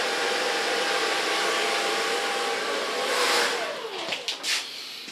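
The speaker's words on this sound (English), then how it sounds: "For so far blow drying." A hair dryer blows hot air over a man's hair at a barbershop, a steady loud whoosh held for several seconds before it wavers and cuts in and out near the end.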